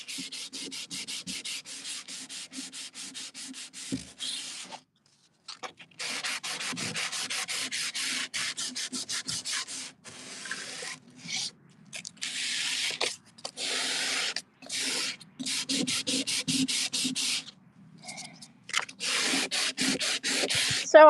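Wood is sanded by hand in a series of rapid rhythmic back-and-forth strokes, broken by brief pauses, fairly close and with no talk.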